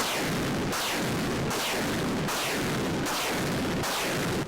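Heavy artillery gun booms repeat at a steady, rapid rhythm, about six loud blasts with no voices, on a front line in Ukraine.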